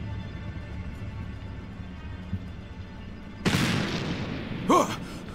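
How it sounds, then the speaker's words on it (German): A sudden sharp bang, a gunshot in the video game Black Mirror 3, cuts through a quiet hum, trailing off in a noisy decay, then a second brief burst with a whining tone. "Klang wie ein Schuss."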